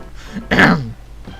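A single rough throat clearing, a short harsh cough-like burst, close and loud in an otherwise quiet moment.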